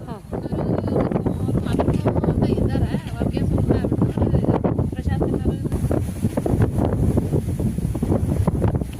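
Strong outdoor wind roars and buffets continuously and loudly while jowar rotti is cooked Uttara Karnataka style, with voices faintly mixed into the gusts.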